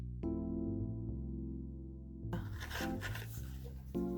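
A grout scraper jabs and scrapes through a metal crowler can, giving a short burst of rough grinding and rasping that comes in partway through over steady background music.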